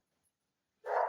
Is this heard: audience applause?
no